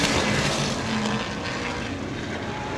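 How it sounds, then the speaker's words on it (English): Sprint car in an outlaw sprint series race on a speedway oval, its engine roaring past loudly in a steady, dense wash that fades slightly. "Jerry Carrier drives by."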